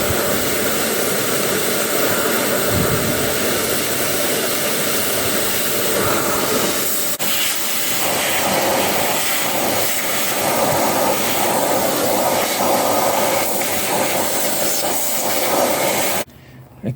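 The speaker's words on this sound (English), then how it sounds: "scrape it a little bit and use the vacuum cleaner at the same time" A vacuum cleaner runs loudly and steadily with a broad whooshing hiss while old silicone sealant is scraped off a car engine's valve cover, then cuts off abruptly near the end.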